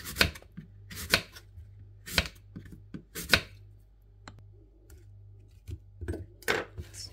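A knife slices through apples on a cutting board in a run of crisp, sharp chops, some in quick pairs and some spaced apart, near and clear with no talk.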